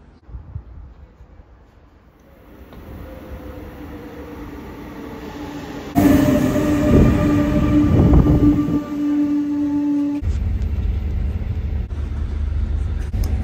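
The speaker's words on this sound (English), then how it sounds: "Fancy trains." A train rumbles through a station, growing louder, with a steady metallic whine and wheel noise, then a sudden drop in tone as it passes.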